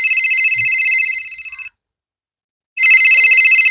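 A telephone rings loudly and close while a call is being placed, a long electronic trill that breaks off, pauses about a second, then starts again.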